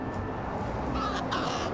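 Crow cawing in the game Little Kitty, Big City, a few harsh caws set over a steady background ambience, moderately loud with no talk.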